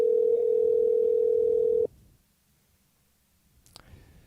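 Steady single-pitch ringback tone on a phone call that is about to go to voicemail, holding for about two seconds before cutting off abruptly into near silence, then a brief click.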